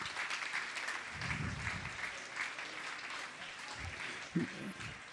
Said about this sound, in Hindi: आप लोग तालियां बजाते रहिए जब तक सम्मान का क्रम चल रहा है।